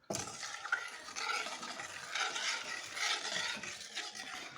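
Brown sugar being stirred to dissolve in a liquid for a home-distilling ferment, a steady scraping swirl that runs continuously at close range without any talk.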